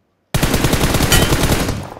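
Rapid automatic gunfire from a battle royale video game bursts in loud and close after a short silence, a dense rattling stream of shots lasting under two seconds.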